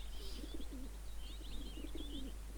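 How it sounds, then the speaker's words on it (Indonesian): Pigeons coo in a foggy park inside a video game, soft repeated low coos joined by a few higher chirps, steady and moderately close over a constant low background hum, with no talking. "ini pigeons yang ini burung yang diceritakan tadi ya"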